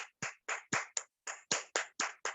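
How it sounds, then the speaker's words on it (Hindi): A small group at an online Hindi Bible study claps in praise, giving about ten crisp, evenly spaced claps in a steady rhythm, close and clear with silence between each. "क्या हम ताली बजा के धन्यवाद करेंगे प्रभु को? जोरदार ताली बजाएंगे।"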